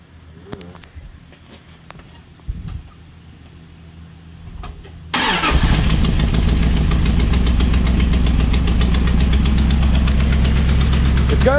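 Mopar 400 big block V8 in a hot rod build for a 1964 Dodge Polara 500, fitted with a four-speed and running with a header leak, fires up about five seconds in and settles into a loud, steady, close idle after a quiet stretch.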